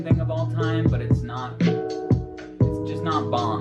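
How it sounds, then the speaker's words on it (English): An 808 bass pattern in a beat booms under crisp drum hits, with repeated deep bass notes in a steady loop alongside melodic layers. "this is the 808 before."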